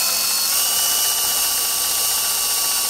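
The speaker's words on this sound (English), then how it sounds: "Always drill through the wood and the metal." Power drill boring through wood and metal while setting up a threaded insert, a loud, continuous high-pitched whine with steady motor tones, close up and unbroken throughout.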